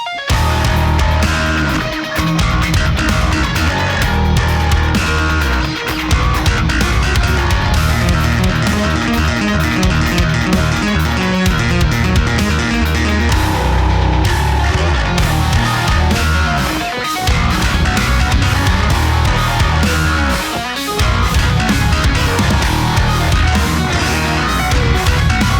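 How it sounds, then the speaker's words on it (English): Bass guitar played through a Boss ME-90B multi-effects pedal with its tube-preamp-style boost engaged, a loud, full, driven bass line running steadily with brief dips, no talking. "including a really nice boost effect that's just sort of like a tube preamp"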